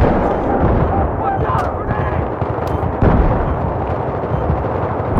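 Dense Battlefield 3 battle noise on the Sharqi Peninsula map, heavy gunfire and booming blasts rolling continuously, loud and close, with players talking over the din.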